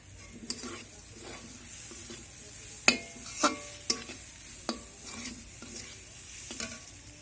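Food frying with red chilli powder and other spices in a pan, a soft continuous sizzle broken by several sharp utensil knocks and stirring scrapes against the pan, close and alone.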